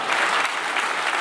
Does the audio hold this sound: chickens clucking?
no